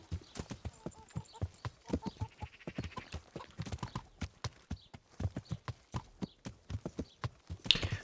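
Horse hooves clip-clop in a steady, even gait while riding in the video game Kingdom Come: Deliverance, with close, distinct footfalls and an occasional faint snort.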